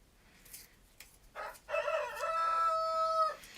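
A rooster lets out a single full crow nearby, building from a few rough notes into a long drawn-out final tone, preceded by faint clucks.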